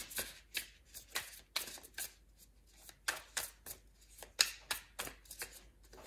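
Tarot cards are shuffled by hand, giving quick, close, papery flicks and riffles in an irregular rhythm over a few seconds, soft and with no talking.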